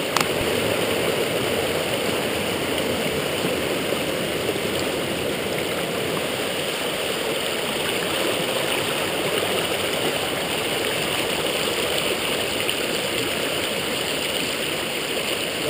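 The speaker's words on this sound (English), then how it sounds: "About 2 miles up from the camping area, came across another creek here." A mountain creek beside a hiking trail in North Carolina's Doughton Park rushes in a steady, even wash of water, continuous and fairly close, with no voices.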